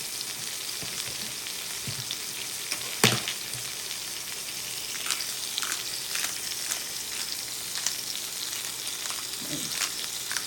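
A steak sears in a very hot pan, giving a steady, bright sizzle with a sharp clank early on and a few soft pops and scrapes throughout.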